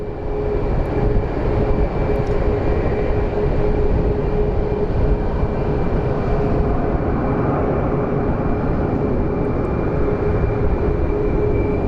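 An Alaska Airlines Boeing 737 Max lands at Phoenix Sky Harbor International Airport, its engines giving a loud, sustained roar with a steady whine running through it as the jet passes and rolls out.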